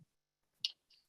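Slow one-handed typing on a computer keyboard, a few soft, sparse key clicks spaced apart in a quiet room.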